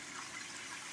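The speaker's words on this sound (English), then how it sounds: "The water source with some" Small waterfalls on the Appalachian Trail pour steadily at a water source, a continuous broadband rush of flowing water with no pauses, moderately close and heard alone.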